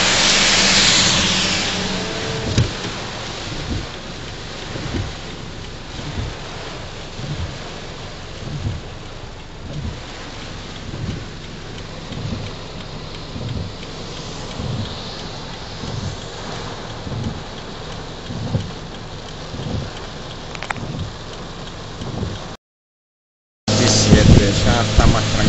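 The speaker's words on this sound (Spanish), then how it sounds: "Más fuerte el viento ahora." Tropical Storm Isaac's heavy rain pours steadily on surfaces with strong gusting wind and repeated rumbles of thunder, loud and close, briefly cutting out near the end.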